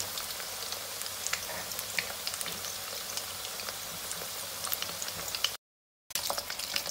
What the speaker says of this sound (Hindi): और हल्की आग पर ही इनको हम लोग फ्राई करेंगे।